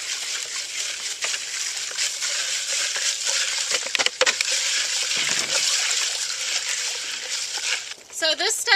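Lye solution being stirred outdoors in a container while making lavender soap with shea butter and sunflower oil, a steady hissing, scraping wash that runs throughout at close range, with a brief clatter near the end.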